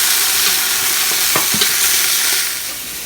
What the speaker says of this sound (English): while these sausages are brown right here